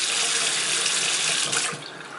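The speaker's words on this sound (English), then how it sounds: "And now I'm going to just rinse this spoon." Tap water runs steadily from a kitchen faucet as a spoon is rinsed under it while cooking pasta sauce, a loud broadband rush that eases slightly near the end.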